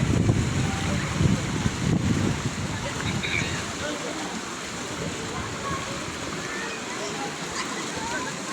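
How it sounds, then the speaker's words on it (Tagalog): Strong wind rushes across a new bathing spot in Mabini on a rainy day, loud, buffeting gusts that rumble hardest in the first couple of seconds, then settle into a steady roar. "Ang hangin ay lilipad ako."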